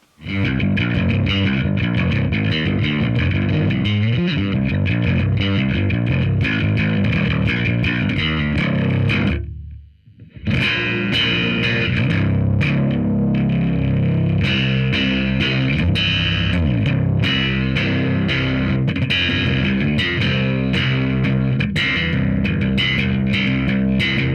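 A heavily distorted, gritty bass guitar plays continuously and loud through an Ashdown CTM 100 100-watt bass amp, with a brief dropout near the middle before resuming.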